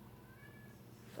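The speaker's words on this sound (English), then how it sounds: "I have a kitty at the door." A cat meows once at a door, a short, rising and falling cry heard fairly close over a quiet indoor background.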